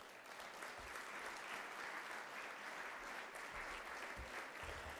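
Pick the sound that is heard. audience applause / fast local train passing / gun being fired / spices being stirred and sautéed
audience applause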